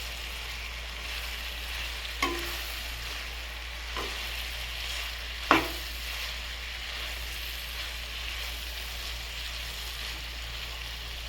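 Turmeric and chili powder are stirred into frying brinjal curry, with a faint steady sizzle and three sharp spatula scrapes against the pan spaced a couple of seconds apart, and no talking.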